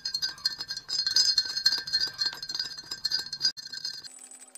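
A spoon stirs sugar into water in a drinking glass, producing a rapid, continuous series of bright clinks against the glass, close and clear, ending with a short tonal ring.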